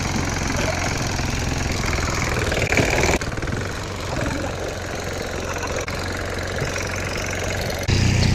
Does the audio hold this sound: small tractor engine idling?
yes